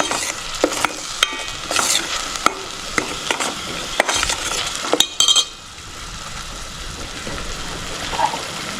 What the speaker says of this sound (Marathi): ही सोबत फ्राय करून घेते